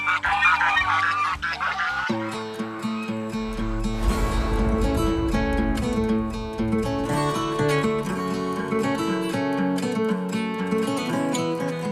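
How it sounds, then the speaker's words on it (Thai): A flock of geese honks loudly and repeatedly in a rice field in Ayutthaya, the overlapping calls crowding together into a near, continuous clamor with no speech. "ผมอยากจะพาไปเล่นกับห่านมากเลยอ่ะ"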